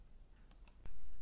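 A computer mouse clicks twice in quick succession on a web page link, two sharp, close taps standing alone in a quiet room, followed by a soft low hum.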